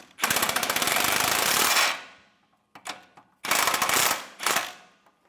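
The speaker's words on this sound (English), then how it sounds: "I'm going to torque this nut to 85 foot-pounds" Torque wrench tightening a nut to 85 foot-pounds on the rear shock of a 2015-2020 Cadillac Escalade: two loud, close bursts of rapid ratcheting clicks, each followed by short sharp clicks, with brief pauses between them.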